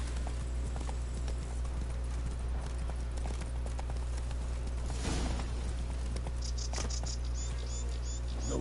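Roach, the horse from the video game Witcher 3, trots with a steady clip-clop of hooves over a constant low ambient rumble, the hoofbeats moderately close and regular throughout.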